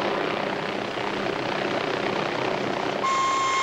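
A yellow Bell 47 helicopter flies overhead with a steady, loud whirring rotor and engine drone that fills the whole clip, and a high electronic tone joins near the end.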